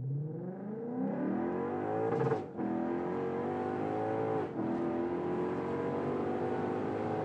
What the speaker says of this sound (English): let's just hear this thing, because we do have that aftermarket exhaust